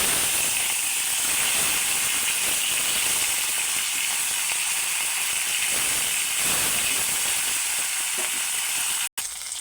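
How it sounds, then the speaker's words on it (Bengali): Fish frying in oil in a pan, browning until reddish, with a loud, steady, continuous sizzle and hiss throughout, broken by a brief dropout near the end. "মাছগুলো ভালো করে লাল লাল করে ভেজে দেব।"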